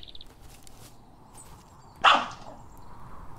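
A dog named Jake barks once in the video game We Are Not Alone, a single sharp, fairly loud bark standing out over a quiet background.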